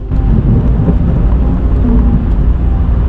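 A nearby lightning strike brings a loud, deep rumble of thunder that fills the space, close and continuous, with a dense roar underneath like heavy rain or wind, during a hailstorm.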